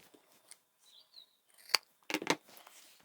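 A few crisp snips of scissors cutting fabric for handbag handles, quiet and close, with faint clicks before two or three distinct cuts near the end.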